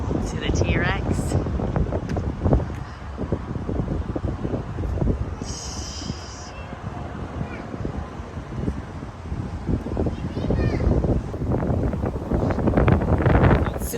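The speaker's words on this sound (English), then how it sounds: "Super windy out here" Strong wind gusts roar across the microphone outdoors beside large dinosaur statues, a loud, continuous buffeting rumble with people talking underneath.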